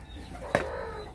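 Backyard chickens giving a single brief cluck at a moderate distance over a steady outdoor background, with no talking.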